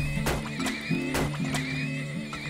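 Horses in the video game Turmoil neigh and whinny in repeated loud calls over a backdrop of game music, with faint clip-clop sounds mixed in.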